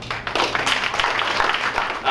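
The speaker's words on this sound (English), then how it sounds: "give yourselves a round of applause" A breakfast crowd at a Labor Day gathering applauds, a dense, steady patter of many hands clapping at moderate loudness for the whole stretch.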